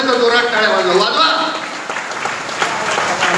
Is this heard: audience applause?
yes